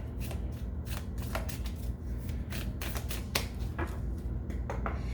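Tarot cards are shuffled and handled up close in a quick, papery flurry of riffling and snapping, with repeated sharp flicks over several seconds and no voice.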